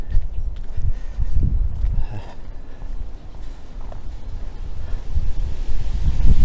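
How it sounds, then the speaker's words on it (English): Wind gusts blow across an outdoor microphone on a mild winter day, a low buffeting rumble that swells and eases in uneven waves, close and fairly loud with no talk. "Feels like a summer wind, even though it's not."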